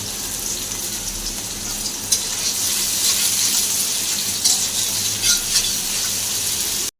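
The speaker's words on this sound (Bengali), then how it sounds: "এক চুলায় আমি মাছটা ভাজা করতে দিচ্ছি তরকারির জন্য" Fish frying in oil in a pan on a stove, a steady loud hiss and sizzle running throughout with small crackles, no talking.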